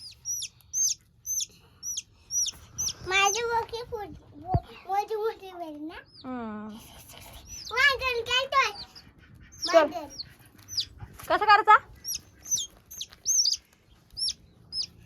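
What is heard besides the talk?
chickens and chicks clucking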